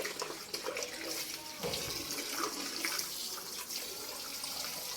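Water pours and splashes into a tub while a child is bathed at home, a faint, uneven run of gushes and trickles with a few louder splashes and quiet voices in the background.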